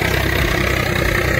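A tractor engine working in a farm field during tilling, a steady low, rumbling drone that holds throughout at moderate loudness, with no voices over it.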